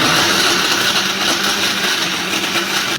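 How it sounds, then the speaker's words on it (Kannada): A kitchen mixer grinder whirs loudly and steadily, blending jaggery with semolina for North Karnataka style rave garige, a constant close motor roar with grinding texture and no voices. "ಈಗ ನಾನು ಇದನ್ನು ಇದರಲ್ಲಿ ಹಾಕಿ ನಾನು ಮಿಕ್ಸಿಗೆ ಹಾಕ್ತೀನಿ"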